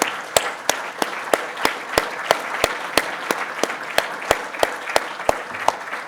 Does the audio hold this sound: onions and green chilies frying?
no